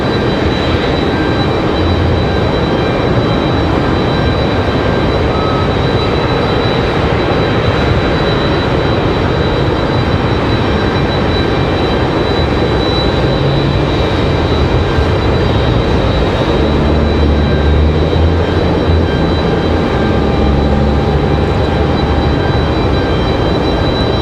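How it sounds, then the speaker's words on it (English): A CRJ regional jet taking off from the runway, a sustained loud engine roar and rumble with a steady high whine, filling the whole stretch with no voices. "We do have a CRJ out toward the end of the runway, ready for departure."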